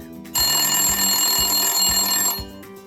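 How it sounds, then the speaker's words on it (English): A telephone bell rings in one long, loud, continuous burst of about two seconds, with a lower rhythmic thumping underneath. "Then the phone rang."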